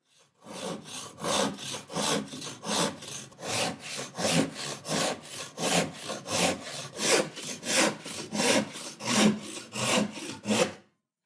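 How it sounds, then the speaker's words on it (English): Hand saw cutting an angled line through a wooden board, about twenty steady rhythmic push-pull strokes, close and even, each stroke a rasping whoosh with no talking. "I'm going to start with this angled cut right here."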